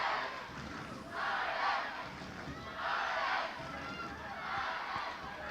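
A rugby crowd at an Ireland women's match against New Zealand, chanting and roaring in rhythmic swells that rise and fall about every second, fairly distant, with a commentator talking over it.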